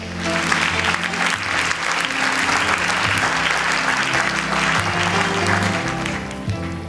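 Sustained audience applause fills the hall at the Miss Universe Sri Lanka 2011 pageant, a loud, dense wash of clapping hands held steady throughout with faint voices mixed underneath.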